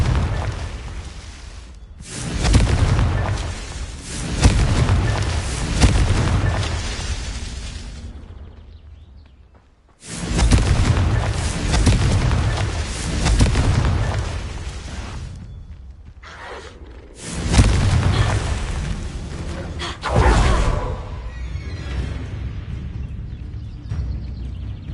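Fiery blasts from the Confringo spell in a Harry Potter video game erupt three times, each a loud booming burst that rumbles and crackles for several seconds before fading, with short quiet gaps between.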